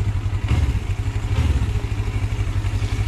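An old motorcycle engine runs with a steady, loud low-pitched chugging and rattling clatter, recorded close while riding on old-style tyres.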